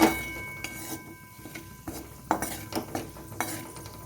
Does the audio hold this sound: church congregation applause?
no